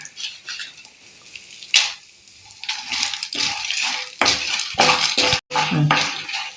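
Lentils and chillies dry-roasting and being stirred in a pan for Tamil coriander thogayal, with a soft crackle and scraping bursts of stirring close by, coming in broken stretches with short gaps.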